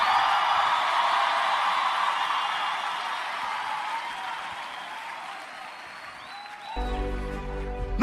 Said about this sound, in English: clap them hands and scream hallelujah